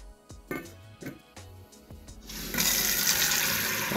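Tap water runs into a kitchen sink while food is rinsed under it, starting in brief splashes and then turning into a steady, loud gush for the second half. A voice speaks briefly near the start.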